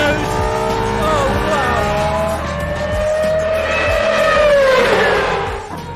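An Aston Martin Valkyrie race car screams past on a track, its high-revving engine whining through gear changes and rising to a loud close peak before fading, with tires squealing and an excited voice shouting over it.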